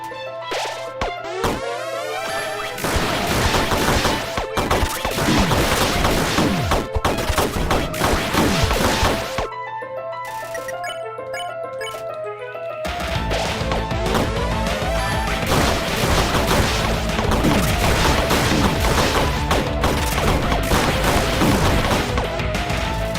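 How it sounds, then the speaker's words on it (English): Explosions in the video game Undertale Yellow burst as a rapid barrage of sharp crashing blasts and clattering hits, loud and dense, broken by a short quieter lull before the volley resumes. "If you can dodge the explosion."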